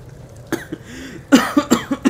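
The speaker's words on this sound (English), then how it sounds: "How long have you had that cough?" A burst of coughing: one cough, a short pause, then a quick run of four or five harsh, close coughs.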